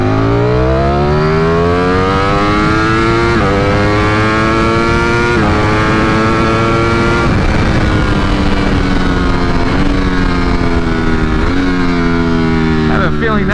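A 2020 Ducati Streetfighter V4 roars close and loud as it accelerates hard from 60 to 130 mph, its engine pitch climbing and dropping with each upshift across several gears.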